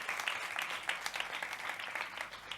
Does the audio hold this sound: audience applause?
yes